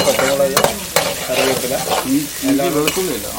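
Ginger fries in a pan of mustard seeds tempered in hot oil. Loud sizzling runs throughout, with a utensil scraping and stirring in quick, repeated strokes.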